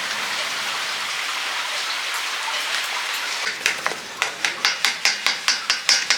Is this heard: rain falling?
yes